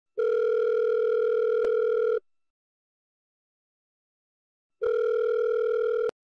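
A telephone dial tone sounds as a call is placed, a steady electronic hum in two long bursts separated by a few seconds of silence, clear and close with no talk.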